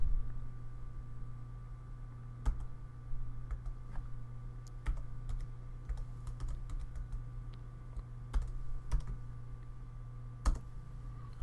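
Typing on a computer keyboard while entering a spreadsheet formula, with irregular clusters of crisp key clicks and a few louder taps, close, over a steady low electrical hum and no voices.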